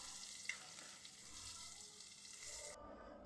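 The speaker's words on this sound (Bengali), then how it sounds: "কাঁচামরিচগুলো আমি এখন ভেজে নিব।" Green chilies and chopped onion fry in a pan with a soft, steady sizzle and gentle stirring noise throughout, quiet and close, ending abruptly.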